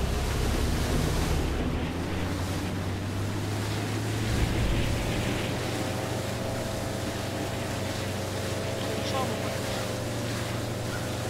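A boat motor in Far Cry 5 drones as a steady low engine hum with water wash, continuous and fairly loud throughout, with a brief bump midway.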